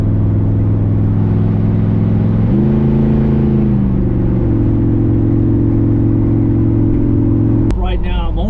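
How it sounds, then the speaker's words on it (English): Car engine droning at a steady pitch while driving on a country road, rising briefly as it revs, then cutting to a rougher, louder burst near the end as the exhaust is opened. "I'm going to go ahead and open up the exhaust right now and zip on down"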